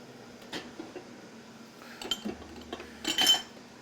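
Fork and teaspoon being handled in a kitchen, giving a few scattered light metallic clinks and taps at close range, with a louder cluster of clatter near the end and no talking.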